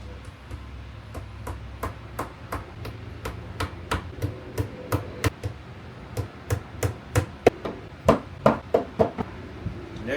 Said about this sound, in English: I got the hammer